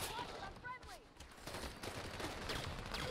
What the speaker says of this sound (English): that shot hit him in the head and didn't do anything